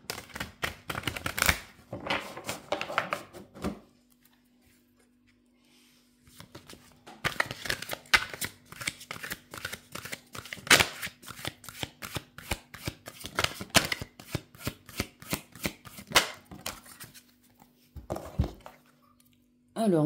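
Oracle cards shuffled for a card reading, a run of quick papery riffles and flicks in bursts with a pause partway, a steady faint hum beneath and a voice speaking at the very end.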